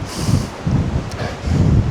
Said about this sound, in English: on these windy days, bamboo in the wind is just so much fun.